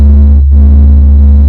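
Sun as a space sonification recording, a very loud steady low drone with strong humming harmonics and a faint high whine, continuous with a brief dip near the start, with no talk.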